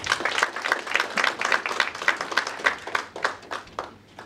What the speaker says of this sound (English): Let's welcome them with applause.